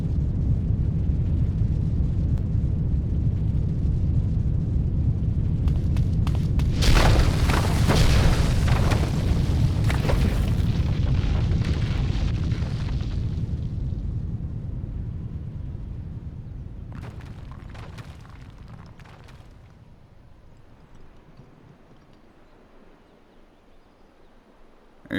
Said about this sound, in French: The shrine's gonna collapse.